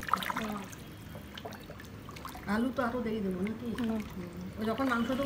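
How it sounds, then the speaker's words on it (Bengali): Boiling water pours steadily into a pot of chicken biryani with a soft trickling splash, while someone talks over it. "এবার বিরিয়ানির মেপে রাখা ফুটন্ত পানি চলে গেল।"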